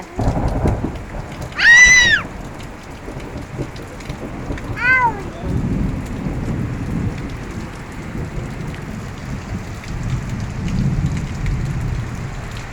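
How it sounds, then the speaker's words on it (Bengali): Steady rain falls throughout with a low rumble of thunder, broken early on by two brief high chirping calls. "এই বৃষ্টি পড়ে আজকে কতদিন পরে না"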